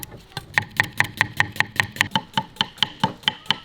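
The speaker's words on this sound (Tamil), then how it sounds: "வெங்காயத்தை எந்த அளவுக்கு நைஸாக வெட்டணுமோ அந்த அளவுக்கு நைஸாக வெட்டிக்கணும்" A knife chops onions finely on a board for chicken biryani, a rapid, even series of about fifteen sharp close taps at a steady rhythm.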